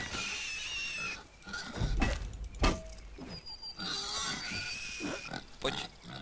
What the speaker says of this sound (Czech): Prasata.